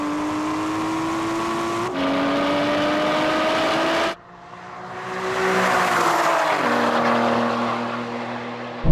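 An Aston Martin accelerates hard in a drag race, its engine climbing in pitch through several gear shifts, loud and close, with a sharp break and then another long rising pull.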